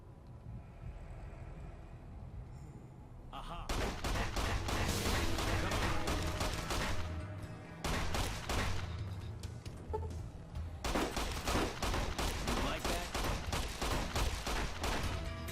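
Gunfire in Fallout New Vegas breaks out after a quiet ambient stretch, with loud, rapid volleys of shots that pause briefly and then start again for several more seconds.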